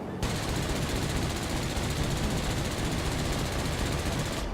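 Rapid continuous burst of aircraft gunfire from a Bf 110C-6 heavy fighter in World of Warplanes, a loud, dense, unbroken rattle starting abruptly and sustained throughout, close and dominant over engine drone.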